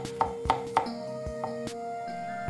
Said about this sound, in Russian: Режем грибочки меленькими